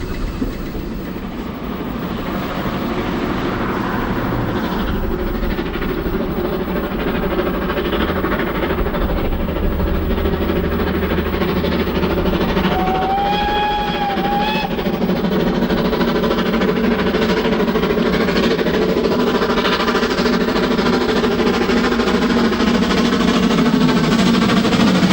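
A steam train climbs the upgrade from Norden into Corfe Castle, banked from behind by the locomotive 257 Squadron; a loud, steady rumble of engine and rolling wagons carries on throughout, with a brief whistle-like tone midway.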